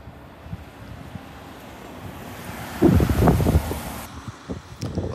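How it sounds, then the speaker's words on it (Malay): Strong wind buffeting a microphone outdoors on a street in the Asahi Funakawa area of Japan, a steady low rumble that swells into louder gusts midway, with no talk. "Angin kuat lah pula."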